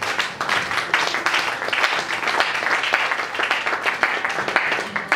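A church congregation applauds loudly, with dense, sustained clapping and scattered cheers filling the room throughout.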